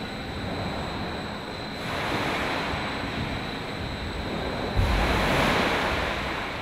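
A broad, steady wash of surging water with rushing wind noise in a wave test basin, swelling louder twice as the waves break, loud and close.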